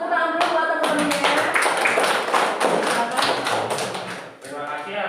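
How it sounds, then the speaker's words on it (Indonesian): A group of classmates claps hands together at the end of an online painting-design lesson, a dense run of sharp overlapping claps lasting several seconds while a voice talks over them. "Kasih tepuk tangan dulu buat teman-temannya."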